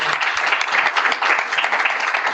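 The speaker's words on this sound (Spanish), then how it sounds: "Yo creo que merece un aplauso," Audience applause at the close of a philosophy seminar session, dense, continuous clapping from a room full of people, steady and fairly loud throughout.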